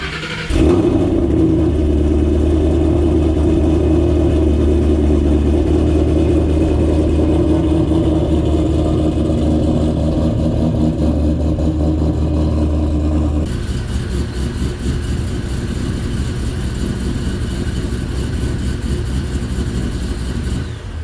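A cammed 2007 Ford Shelby GT500 engine runs loud and close with a steady, choppy rumble. Partway through, the tone shifts slightly and the engine carries on alone with no talking.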